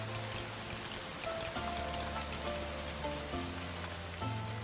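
Steady rain falling on surfaces in the medieval colony-building game Going Medieval, a constant dense patter with soft ambient music tones drifting beneath it.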